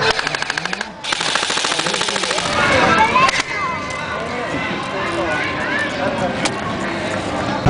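Rapid bursts of gunfire, likely from a small gun fired by kids at an outdoor shooting session, crackle near and loud at the start, then scattered single shots follow amid voices and ambient commotion.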